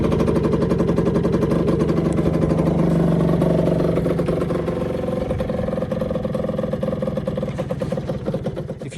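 A 2021 Rieju RS3 motorcycle engine running just after starting, with a close, steady buzzing drone that holds loud for several seconds and then eases slightly, no talk.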